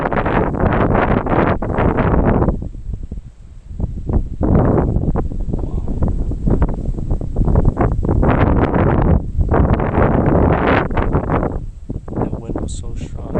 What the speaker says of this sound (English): That wind was so strong.